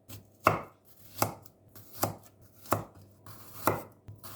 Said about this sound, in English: Chopped or minced 2 to 3 cloves of garlic.